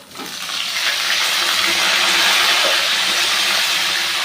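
Sliced eggplant going into hot oil in a home kitchen for a Bengali taro, potato and katla fish dish, a steady loud sizzle that swells quickly and holds bright and hissing throughout.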